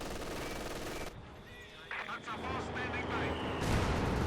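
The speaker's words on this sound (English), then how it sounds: "Mortar utterly annihilated here by American mortar fire" Mortar fire in the strategy game Company of Heroes 2: bursts of gunfire and explosive impacts crackling together for several seconds, with a commentator talking over them.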